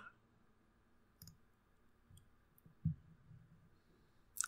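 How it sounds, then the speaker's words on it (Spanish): Several soft, sharp computer mouse clicks, made while selecting in ImageJ image-analysis software, tick at irregular intervals through a quiet room. The last clicks are slightly louder. "Hago clic en seleccionar."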